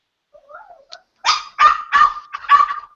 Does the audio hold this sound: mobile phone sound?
no